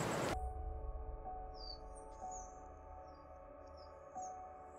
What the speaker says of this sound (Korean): 온갖 새소리와 물소리, 따사로운 햇살이 살포시 일상을 잊게 하는 천년 숲길